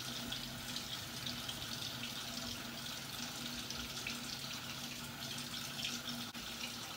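A tap runs steadily into a sink during beard shaving with a disposable razor, a constant close splashing hiss that lasts throughout with no voices.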